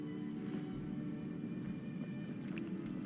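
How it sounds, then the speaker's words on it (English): Steady rain falls in the video game Skyrim at night, a constant soft patter and hiss on surfaces, faint and even throughout with no talking. "And it is also raining, so that is part of it."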